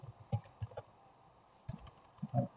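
Computer keyboard keys tapped in short irregular bursts of clicks, close and fairly faint, with quiet gaps between clusters of keystrokes.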